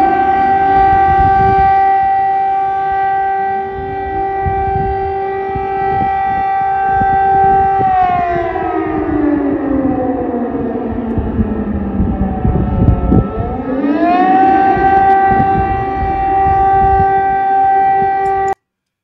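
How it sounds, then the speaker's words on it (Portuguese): An air raid siren recorded in Kyiv wails loudly and continuously, its pitch sliding down into a low growl and then climbing back up to a sustained high tone. "eles gravaram a sirene lá em Kiev, né? Como é que é a sirene antiaérea?"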